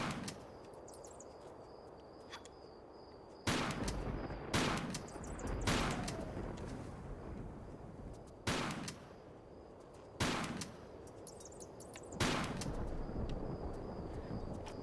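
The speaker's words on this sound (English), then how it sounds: "I will just shoot the wall. Or whatever it is with my shotgun." Shotgun blasts in Tomb Raider IV: The Last Revelation, fired at a wall inside the mastabas of Giza: five loud, sharp booms at irregular intervals over a low rumbling ambience with faint high metallic chimes.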